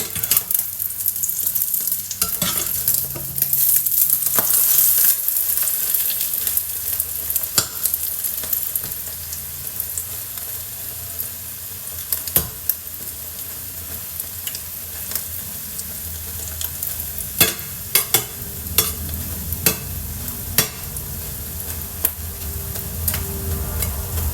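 Thai scrambled egg fries in a hot pan, a loud steady sizzle broken by frequent sharp scrapes and taps of a utensil stirring, easing slightly partway through before clicks and stirring pick up again.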